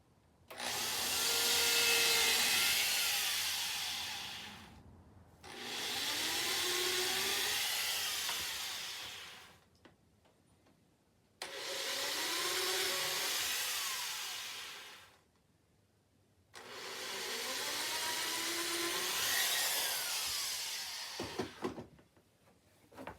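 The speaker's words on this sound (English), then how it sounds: "So I'm using my handy dandy little screw gun with a 1/8" bit." A screw gun fitted with a 1/8 inch bit pre-drilling cedar for a wooden garden basket: four long whining bursts of several seconds each, separated by brief pauses, close and steady with the pitch shifting under load.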